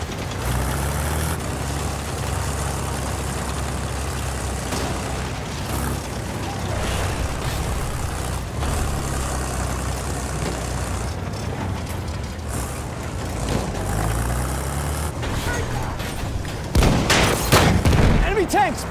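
Heavy tank in the video game Battlefield 1, with a steady rumbling engine and clanking mechanisms under scattered distant gunfire, then a louder burst near the end.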